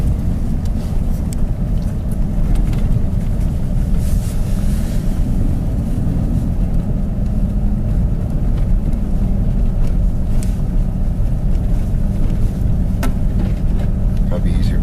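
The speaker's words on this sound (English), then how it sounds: "right now we have our 4x4 locked in high, so we have full traction" A 4x4 truck in high-range four-wheel drive climbing a steep snowy backwoods track in winter British Columbia, its engine a loud steady low rumble with bumps and rattles throughout, with people talking inside the cab.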